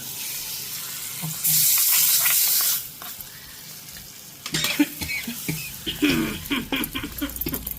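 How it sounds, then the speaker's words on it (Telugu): Tempering spices (popu) hit hot oil for eggplant chutney with a loud burst of sizzling that crackles for about a second, then dies down into stirring scrapes and utensil clinks. "పోపు వేగుతుంది అనమాట మాడుతుంది మాడుతుంది అంట వేసి లేచేది సౌండ్"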